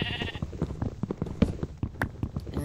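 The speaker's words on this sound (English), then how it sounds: "Kill some sheep in a minute for some mutton." Sheep bleat in the Minecraft video game during hardcore survival play, a few short bleats scattered among clicks and game effects over a couple of seconds.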